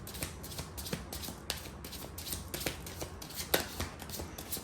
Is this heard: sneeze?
no